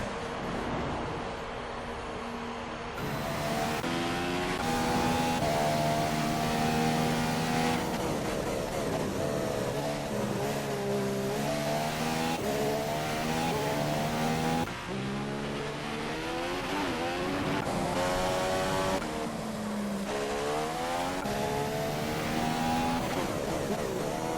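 F1 race cars in a Bahrain GP2 racing game lapping the track, high-pitched engines revving and shifting through gears in rising and falling sweeps, several cars overlapping, loud and continuous without talk.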